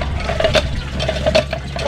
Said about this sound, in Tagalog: Nilalagyan ko ng tubig mga kabida kasi umatras yung tubig niya